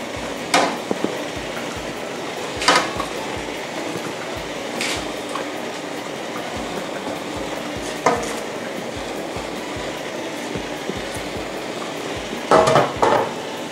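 Bakjang rice dumplings go into a steamer pot over boiling water. Scattered clunks and clatters of the dumplings and pot ring out over a low, steady bubbling hiss.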